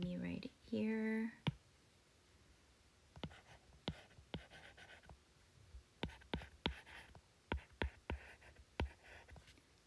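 Pen or marker writing out a two-step math equation, a series of short scratchy strokes and taps coming in uneven bursts, close and fairly quiet, after a brief spoken phrase at the start.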